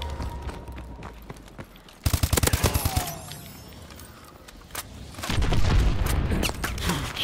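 Missile strikes slam down in a Supremacy team deathmatch on PS4, a rapid burst of heavy booms and crackling detonations around the two-second mark, followed later by a louder rumbling blast that lingers to the end.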